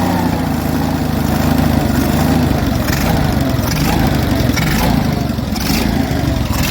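An Onan US military generator engine runs steadily and loud throughout, its constant mid-pitched drone holding a near-even throttle with a slight rise and fall in tone.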